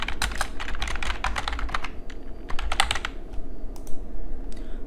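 Computer keyboard typing while a message is written in a Java social network web application, a steady run of close, fast clicking keystrokes with a brief pause midway before resuming.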